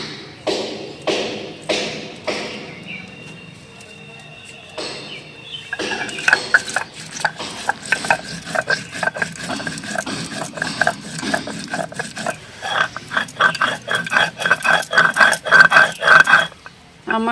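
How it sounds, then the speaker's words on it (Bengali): Coriander, cumin and dried chili are ground into a paste by hand in a village kitchen, first with a run of sharp rhythmic taps, then a sustained scraping and grinding with irregular thumps, close and fairly loud. "প্রথমে আমি ধনে জিরে আর শুকনো লঙ্কাটা বেটে নেব।"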